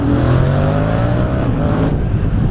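A Yamaha MT-07 motorcycle accelerates hard along an open straight, its engine note climbing steadily and loudly with a continuous rising whine and rumble throughout.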